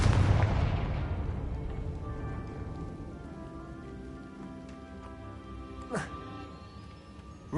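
Confringo spell explosion in Hogwarts Legacy: a loud burst at the start that rumbles and decays over several seconds, then a second, sharper, fainter blast near the end over a low ambient bed.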